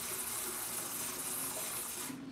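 Tap water runs steadily into a pot for pasta, a continuous close hiss and splash that cuts off at the end.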